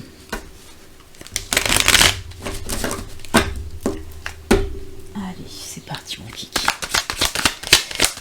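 Tarot cards being shuffled by hand, with quick riffling bursts, soft flicks and slaps of cards against one another that recur irregularly, close up, while someone speaks softly in French over them.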